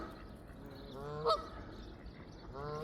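A goose honks on an outdoor dog walk on an island, two nasal calls, the first sharper and louder, set against a quiet open-air background.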